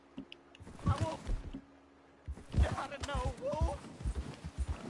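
Horse hooves clip-clop in Red Dead Redemption 2, a steady rhythmic trot heard under frequent excited talk from the player.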